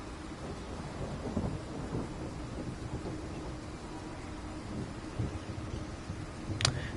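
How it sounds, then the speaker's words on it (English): Distant thunder rumbles low and continuous during a rainstorm in the Train Sim World 3 game on the Kassel–Würzburg high-speed line, with soft rain hiss and a brief sharper crack near the end. "Can you hear the distant thunder in the background?"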